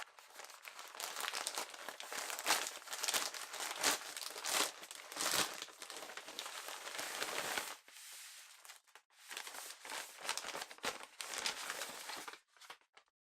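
A GORUCK package being unboxed, with loud close crinkling and rustling of packaging in several bursts, a brief pause in the middle, then more crinkling, with no talking.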